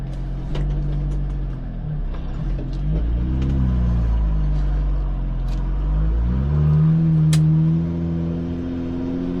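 A vehicle strains to tow a stuck vehicle free, its engine rumbling low and close, swelling into revs and easing back as it pulls.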